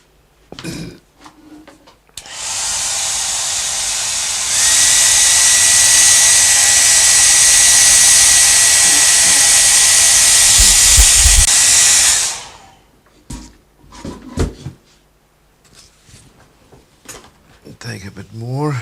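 A hair dryer blows on a watercolour painting of a fruit still life, a loud steady whoosh that kicks up to a higher setting midway and runs about ten seconds, with talk and throat noises before and after.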